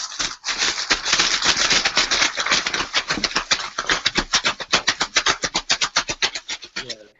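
A Pandoro cake is shaken hard inside a closed plastic bag, giving a rapid run of crisp rustling, crinkling bursts that speed up into a tight rhythmic shuffle, loud and close, then stop abruptly.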